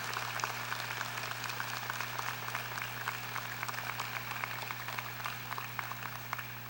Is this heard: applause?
yes